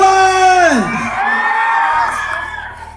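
A loud crowd at a Puregold trade event whoops, cheers and yells for actor Paulo Avelino in a sustained, near roar, rising over a voice at the start and slowly fading.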